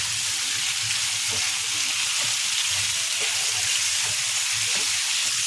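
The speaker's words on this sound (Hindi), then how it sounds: "अब इसको तेज आंच पे थोड़ा से भून लेंगे अच्छे से" Arbi (taro root) masala frying on high heat in a pan gives a loud, dense, steady sizzle throughout, with faint low knocks beneath it.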